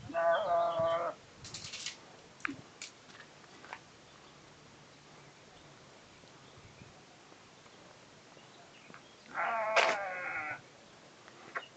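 Goats bleat near a landslide on a road between Mongrassano and San Marco, two loud wavering cries several seconds apart over a quiet outdoor background with faint scattered noises.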